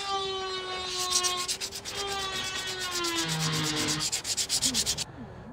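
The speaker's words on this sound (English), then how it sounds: "So this is the section that I've just sanded off, all the way along there." Sandpaper scrubs fibreglass on a boat hull under impact-damage repair, a close, rhythmic rasping stroke repeated rapidly, with a sliding whine-like tone running underneath.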